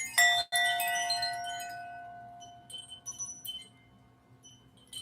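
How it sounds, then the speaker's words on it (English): Bright chimes struck during a guided meditation, one clear metallic strike ringing out and decaying over a quiet hum, followed by softer scattered tinkling chimes. "Listen to the chimes as if they were all the confusion and things you wanted to get rid of."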